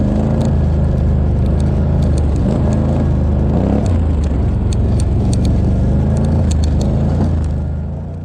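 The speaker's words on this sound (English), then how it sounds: "filming Don's 750 KingQuad going in and out of Demon Elbow Valley" A Suzuki KingQuad 750 ATV engine drones and revs as it drives in and out of a valley, heard loud and close from a bumper-mounted camera, the pitch rising and falling with bursts of throttle before fading slightly at the end.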